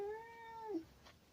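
Ziggy, a male pet cat, lets out a single close, clear meow that slides downward in pitch at the end, with no other sound around it.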